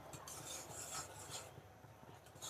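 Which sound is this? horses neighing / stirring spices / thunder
stirring spices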